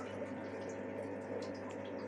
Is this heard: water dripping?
yes